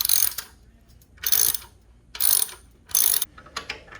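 A ratchet with a 12 mm deep socket works a sump guard bolt on a Royal Enfield 650 motorcycle, giving four short bursts of rapid clicking separated by brief pauses, close and crisp.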